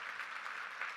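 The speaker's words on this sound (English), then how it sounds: "can we give it a round of applause for these volunteers?" Faint, distant applause, a soft steady patter of clapping hands throughout the brief moment.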